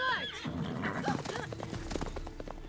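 The horse Roach from The Witcher 3 gives a loud, close neigh, a high whinny that drops away, followed by snorting and hoof clops on the ground.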